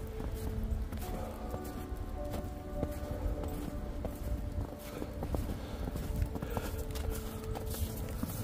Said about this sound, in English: Get a hell of a workout walking through all this heavy, wet snow.